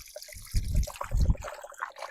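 Beef bone pieces rinsed by hand in water, with a couple of short sloshing bursts of splashing and trickling, close and fairly loud, separated by quieter dripping moments.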